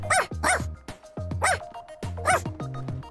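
A dog in the video game Wobbledogs barks in a quick series of about four loud, close yips and barks, each with a short tonal tail.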